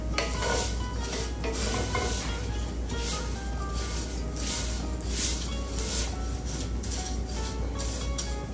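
Fideo Mexican noodles fry in a pan with a steady, close sizzle, while repeated scraping and stirring strokes rasp across the metal at a regular pace.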